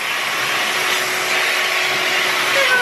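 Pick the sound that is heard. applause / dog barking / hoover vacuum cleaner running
hoover vacuum cleaner running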